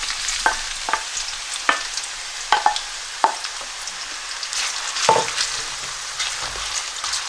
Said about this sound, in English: I'm just going to now add all the onion to the oil.